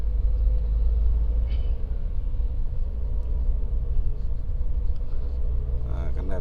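Steady low rumble of cars creeping in a nighttime traffic jam on the road from Puncak toward Cianjur, heard from inside a vehicle, with a faint voice briefly in the background.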